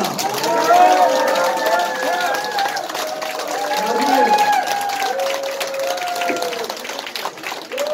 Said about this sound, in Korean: 우리 정병길 대표한테 큰 박수 한번 보냅시다.